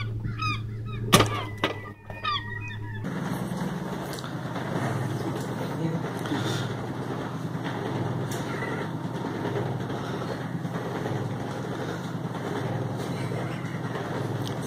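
Geese honk loudly in a short burst of repeated calls at the start, then give way to a steady outdoor rumble of wind and traffic-like noise with faint background activity.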